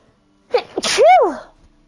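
A character sneezes in The Witcher 3: The Wild Hunt, a single loud, close sneeze with a sharp intake followed by a strong, falling burst, heard alone without talk.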